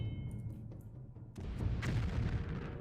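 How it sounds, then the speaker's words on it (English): A quiet, sparse start gives way to a sudden deep boom, followed by a rumbling, crackling explosion that lingers, in the video game Morrowind. "Oh, an explosion. Another explosion."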